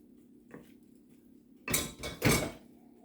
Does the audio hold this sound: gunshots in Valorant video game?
no